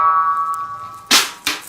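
A sustained ringing tone fades into two sharp, bright cracks from a very high-tuned reggae snare drum, the second following shortly after the first, each with a short papery decay.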